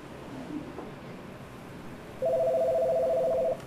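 Telephone tone during a call-in radio quiz, a steady electronic beep lasting just over a second after a quiet stretch of room noise.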